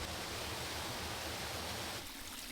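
Water pouring through a sluice on a lake, a dense, loud, continuous rush of flow with no pauses, easing slightly toward the end.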